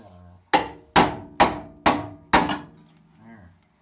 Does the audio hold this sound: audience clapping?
no